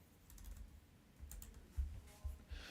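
Quiet typing on a computer keyboard: soft, irregular key taps and a few heavier thumps, close and faint, with no talk.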